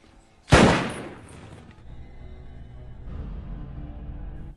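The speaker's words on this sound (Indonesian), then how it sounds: "Tiba-tiba si Jones menembak James tepat di kepalanya" A single sudden, loud gunshot from a film scene where a man is shot in the head, followed by a lingering low rumble and background ambience.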